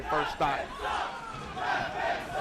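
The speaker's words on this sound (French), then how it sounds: "There's a Leffen sucks chant going on in the crowd." Crowd chanting in unison at an Apex 2013 Super Smash Bros. Melee tournament, a loud rhythmic chant from a large audience that rises and falls in waves across the clip.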